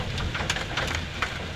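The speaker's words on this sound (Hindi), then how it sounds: "आप देख सकते हैं लाहौर में ओले पड़ रहे हैं और नहायत ही शदीद किस्म के ओले पड़ रहे हैं" Hail pounds down during a sudden storm in Lahore, a dense, continuous clatter of ice hitting surfaces with sharper individual impacts popping out of the steady roar.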